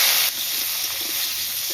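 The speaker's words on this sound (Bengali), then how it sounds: "এবার কেটে ধুয়ে রাখা আলু দেব।" Cut and washed potatoes drop into hot salted mustard oil and start a loud, close sizzle. A sharp hiss at the start settles into steady frying spatter.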